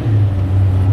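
A Lamborghini SVJ supercar with an FI exhaust rumbles with a deep, steady low drone, loud and close.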